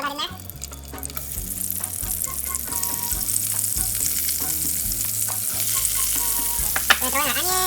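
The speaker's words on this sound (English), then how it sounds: "we're gonna start frying up all of the rest of the veggies. So first, I have some onion. We're gonna throw that in there." Onion, spicy chili and other vegetables sizzling in hot oil for shrimp fajitas, a steady close crackle with stirring and pan scrapes, a faint voice and light background music underneath.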